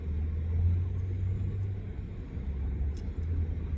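Vehicles rumble outside a truck stop: a steady low engine drone, close and continuous, with traffic noise washing through and a faint brief clink near the end.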